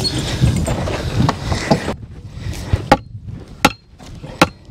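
Fence posts being pounded shallowly into the ground on a farm, with several sharp thuds and knocks over rustling and shuffling noise, the later blows standing out clearly and close.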